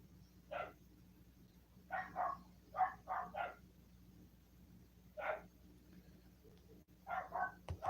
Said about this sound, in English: sorry about my dogs; they're outside being annoying.